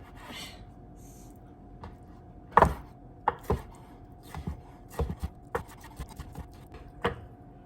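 Knife cutting partly frozen calamari steaks on a board, a series of about a dozen sharp, irregular chops and thunks, close and distinct over quiet background hum.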